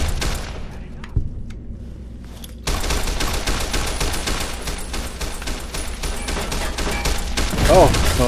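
Gunfire in the video game Fallout New Vegas: a few isolated shots, then a brief lull, then a dense, continuous barrage of rapid shots that carries on steadily to the end.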